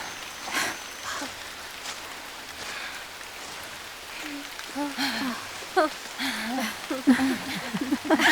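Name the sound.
rain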